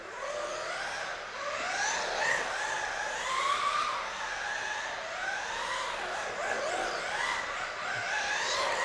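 A cheap RC car upgraded with a new ESC and servo races around a track, its electric motor whine rising and falling in quick repeated sweeps as it speeds up and slows, steady and moderately loud throughout.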